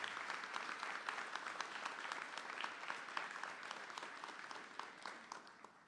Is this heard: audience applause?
yes